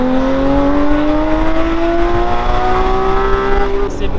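Porsche Cayman GT4 fitted with a full IPE exhaust revs high and steady, its shrill engine note climbing slowly and holding loud and close throughout without a break.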